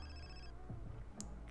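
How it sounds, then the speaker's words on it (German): A phone rings in The Sims 4: a short, faint electronic ringtone trills at the start and then stops, followed by soft in-game sounds and no speech. "Es hat zweimal geklingelt."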